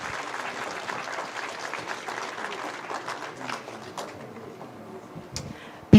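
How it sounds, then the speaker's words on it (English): Audience applause at the Business Standard Manthan event, a sustained crowd clapping at moderate level that thins out over several seconds, ending in a sharp loud knock or thump. "Once again, a round of applause"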